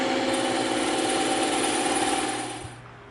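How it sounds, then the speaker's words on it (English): A bandsaw cuts through EVA foam, a steady close motor drone with a buzzing cutting tone that holds evenly, then winds down and fades near the end. "We're gonna move over to the bandsaw"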